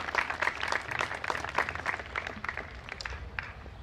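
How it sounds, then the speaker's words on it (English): Scattered applause from the audience at a 2021 high school graduation ceremony, fairly faint and distant, with irregular individual claps and crowd murmur. "give them a round of applause for everything they've done to support us this year"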